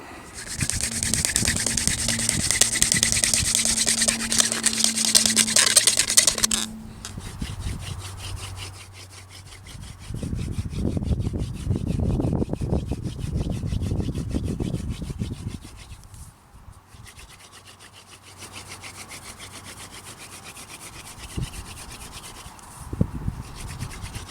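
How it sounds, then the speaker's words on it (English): A wooden hand drill spins against a poison oak board to make friction fire, a long run of close, steady rasping scrapes that pause and then start again. "I've always read that Ishi can make fire out of poison oak, and now I'm going to try it"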